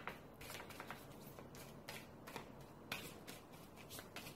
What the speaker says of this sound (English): just give them a shuffle and put them over there on the side